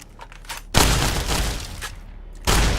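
Two loud shotgun blasts from a caravan shotgun firing 12-gauge shells in Fallout: New Vegas, each a sharp broadband boom with a lingering noisy tail, spaced about two seconds apart.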